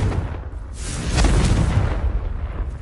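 A Confringo blasting spell explosion in Hogwarts Legacy, heard as one continuous deep rumbling boom that swells and holds for several seconds, loud and close, with no voices over it.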